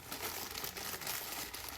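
A plastic bag crinkles during the unboxing of a DEERC 207E RC car's accessories, a brief close rustle that keeps on steadily with no talk.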